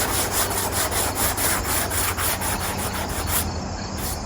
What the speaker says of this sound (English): I'm going to scrub off the excess foam and the excess adhesive.